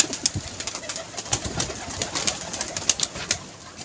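Pigeons coo repeatedly at close range at a pigeon club, soft throaty calls recurring over a faint background hiss, with no talking.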